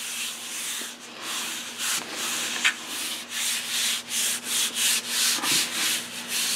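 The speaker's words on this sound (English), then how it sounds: "on these ones that don't have as deep a texture, to rub it into the plate." Textured wallpaper being rubbed by hand onto a Gelli plate, a soft close scratchy rubbing that grows into quick rhythmic strokes toward the end, with a faint steady hum behind.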